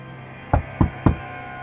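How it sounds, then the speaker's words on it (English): Three firm knocks on a door at a steady, even pace, close and clear against a quiet background with no voices. "The knock happened again."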